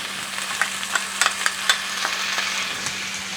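Chickpeas stirred with soy sauce in a frying pan, a steady bright sizzle with a run of quick spoon clicks and taps against the pan, close and fairly loud.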